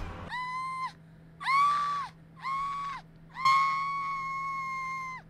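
Obi-Wan screams in a comedic fan edit, four drawn-out, high-pitched wailing cries separated by short pauses, the last one longest, loud and alone over a faint steady hum.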